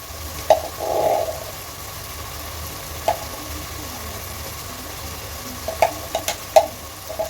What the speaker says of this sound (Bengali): আদা রসুন অ্যাড করে দিচ্ছি। হচ্ছে আমি একটু নেড়ে নিচ্ছি।